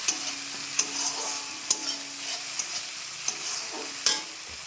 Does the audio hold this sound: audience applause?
no